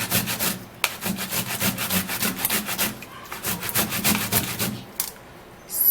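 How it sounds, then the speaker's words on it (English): A tomato being grated by hand, quick rhythmic rasping strokes repeated steadily at close range, with a couple of short breaks. "I'm gonna be grating the tomato"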